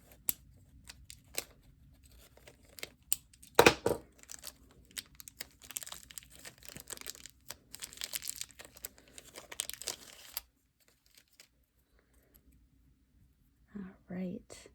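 Plastic packaging around a Pilot Fermo Capless fountain pen being cut and torn open, with scattered crinkles, snips and rustles close by, a sharp tearing burst near the start, quiet whispery handling throughout and a short pause before a few final rustles.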